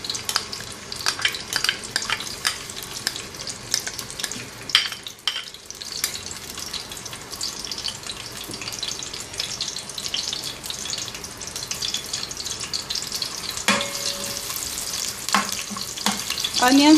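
Onions fry in about half a cup of oil in a pan for chicken yakhni pulao, with a continuous crackling sizzle and scattered stirring scrapes, fairly loud and close, no talking.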